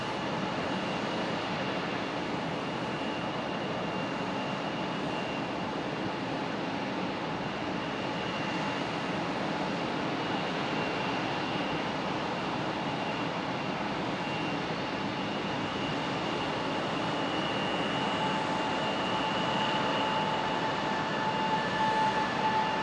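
Alaska Airlines Boeing 737 MAX 9 jet departing Raleigh Durham airport, a steady broad engine roar holding at a constant level throughout, with a faint whining tone above it.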